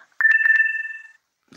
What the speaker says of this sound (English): Phone's going crazy.